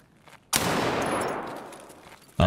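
A sudden burst of loud video-game gunfire, a short automatic volley that decays over about two seconds, followed by another sharp shot at the end; close and alone, no talk over it.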